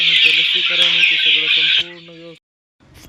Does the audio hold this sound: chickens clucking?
yes